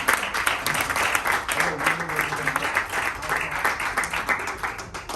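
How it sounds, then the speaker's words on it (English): An audience at an annual general meeting claps for the incoming maths committee lineup, a lively patter of many hands that stays fairly even throughout, with voices murmuring underneath. "Let's give them a round of applause"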